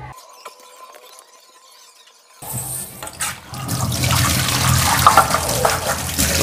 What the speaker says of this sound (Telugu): water tap open checking